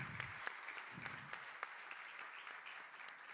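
Audience applause at a sustainability business forum, a steady wash of many hands clapping with scattered sharper individual claps, moderately quiet and filling the whole stretch without speech.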